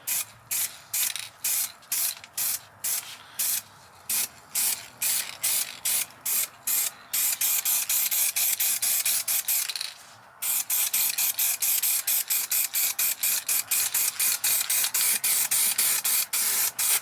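Short hissing bursts from a spray can applying a heavier coat to car interior trim, rhythmic at first, then a fast continuous stream of rapid spurts with one brief pause.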